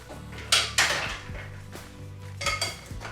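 Tuna and avocado salad seasoned with salt and pepper is stirred in a bowl, producing a few sharp clinks of a utensil against the dish amid softer scraping, close and fairly quiet.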